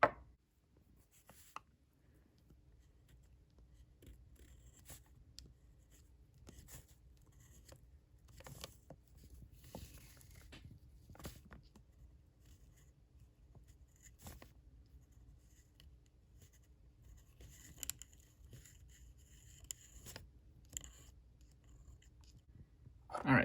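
Faint, steady scratching of a pen with a slit nib and a wide writing tip moving across paper, with small irregular strokes and taps over about twenty seconds in a quiet room.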